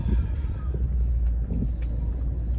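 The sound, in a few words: cars driving past on a street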